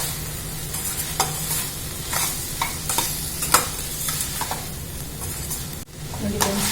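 A spoon stirs sweet corn and beans with coriander powder and garam masala in a hot pan, a close, continuous sizzle with repeated scraping strokes and a brief clatter near the end.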